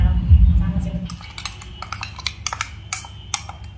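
A metal spoon clinks and scrapes against dishes while shrimp-claw fritter paste and fried neem leaves are being made, giving a run of sharp, close, irregular taps after a low rumble at the start.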